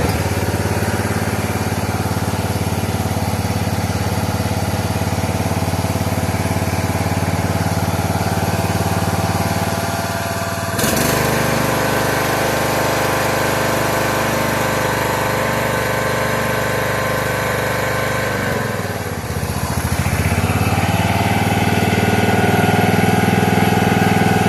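A John Deere 130 lawn tractor engine runs loud and steady, with a brief dip near the middle and another sag before it settles back into an even idle drone.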